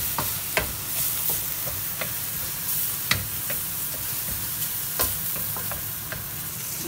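Beef for fried rice sizzles steadily in a hot pan, close and even, with scattered sharp scrapes and clinks of stirring at irregular intervals.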